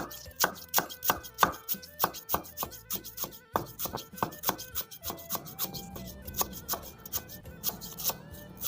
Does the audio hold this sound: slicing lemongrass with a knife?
yes